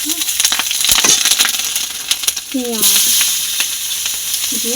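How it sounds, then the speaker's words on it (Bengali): Onion with spices such as bay leaf and five-spice seeds frying in oil, a loud bright sizzle with rapid scraping stirs, and brief voice fragments rising over the frying now and then. "পেঁয়াজটা ভালো করে ভেজে নিলাম"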